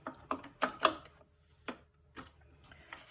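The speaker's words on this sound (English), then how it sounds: "We're going to slip this into the printer here." Stencil material for glass etching, cut from a 2-inch roll, is slipped into a printer and fed through. It makes a few short mechanical clicks and ratcheting ticks, close and fairly quiet, with brief gaps between them.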